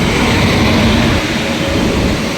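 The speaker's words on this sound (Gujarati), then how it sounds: "આ ટ્રેન આવતી હતી એટલે ભાઈ આ પાટા ઉપર વહી આવીને આ ટ્રેન ઊભી રહી ગઈ છે." A train rolls past on nearby tracks, a dense, loud continuous rumble and clatter that stays steady and eases only slightly toward the end.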